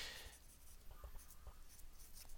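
An F pencil scratches across paper in quick, quiet, close strokes while a fluffy tail is sketched, the short scratchy bursts coming in an irregular rhythm.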